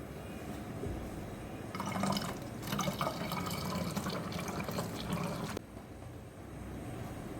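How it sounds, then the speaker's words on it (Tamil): Bioenzyme liquid is poured into a soap nut cleaner as a steady trickling, filling stream over a few seconds, close and moderately loud, then stops, leaving a low background hiss. "இந்த பயோஎன்சைம் கூட நம்ம இதை ஊற்றி வச்சுக்கலாம்."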